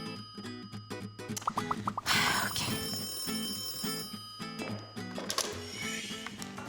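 A telephone rings in an office, repeated electronic trills sounding in bursts alongside clattering noises and brief background voices.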